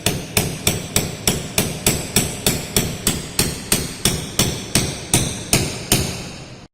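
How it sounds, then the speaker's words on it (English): Hammer striking a chisel into frontal skull bone during skull cap removal, about fifteen sharp, evenly spaced metallic blows in a steady rhythm, loud and close with no talk. "Now with the help of the chisel and the hammer we will break the frontal bone."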